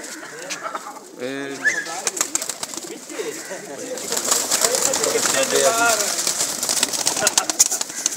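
Several Pakistani pigeons coo close by in soft, throaty repeated calls on a rooftop, with some chatter and fluttering noise around them.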